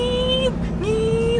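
A supercharged 1987 Honda Civic SB3 engine revs close by in a steady whine that dips briefly and climbs again, under a little speech.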